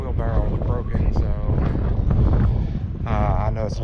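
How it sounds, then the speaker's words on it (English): Outdoor wind buffeting the microphone at a tiny-home foundation build site, low rumbling gusts under someone talking. "I know it's a little windy out here. I apologize for the wind."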